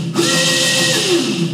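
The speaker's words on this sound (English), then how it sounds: "when we short this cable, the motor is running" Small electric motor on a mini quad with its wheels raised, running when the throttle cable is shorted, giving a steady close whine with a faint rising and falling tone, short and alone.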